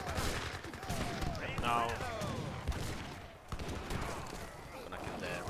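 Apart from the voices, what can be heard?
Gatling gun fire in video game Age of Empires III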